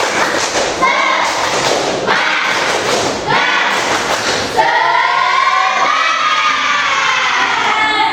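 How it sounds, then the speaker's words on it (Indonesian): Classroom of Indonesian school pupils doing a rhythmic spirit clap in unison, several loud beats of clapping and thumping mixed with children's shouting and chanting voices, close and boisterous. "Tepuk semangat."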